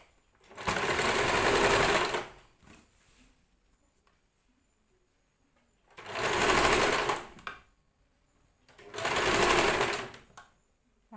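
Sewing machine stitching a churidar sleeve onto the top, running in three separate loud bursts of steady whirring with quiet pauses between them, no talking.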